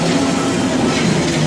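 A London Underground Metropolitan line train rolls past at Finchley Road station, a loud, steady rumble of wheels and motors with no voices over it.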